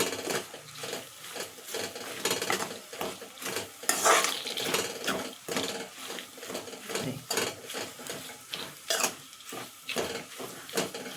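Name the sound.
stirring soya chunks (meal maker) into gongura chutney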